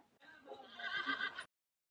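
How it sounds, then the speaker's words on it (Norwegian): Plush toy horse with wheels gives a single electronic whinny lasting about a second and a quarter, clear and close, followed by silence. "Den vrinsker når den blir kost med."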